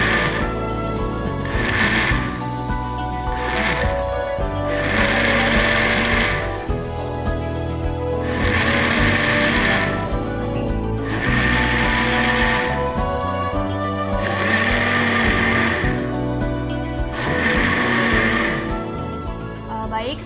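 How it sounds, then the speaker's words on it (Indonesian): Blender pulsing mung bean sprouts in 500 ml of acetate buffer, with several loud bursts of motor whine separated by short pauses, running in repeated intervals over about twenty seconds. "Selanjutnya kita akan melakukan pemblenderan pada sampel yang sudah dimasukkan buffer asetat 500 ml."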